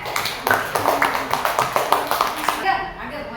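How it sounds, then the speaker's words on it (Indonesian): A classroom of children claps together in a fairly rhythmic, evenly spaced series of sharp hand claps, moderately close, ending abruptly with a brief quiet tail. "Tepuk tangan dulu untuk Zaki ya."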